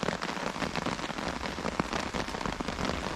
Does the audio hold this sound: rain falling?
yes